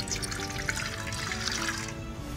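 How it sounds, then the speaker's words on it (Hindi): Water pouring into a pressure cooker during home cooking, a soft continuous splashing trickle that stops just before the end. "सबसे पहले प्रेशर कुकर में ये मैं पानी इसमें ऐड करूँगा"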